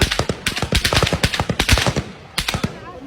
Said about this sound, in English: They like shooting in the sky to scare people to flee.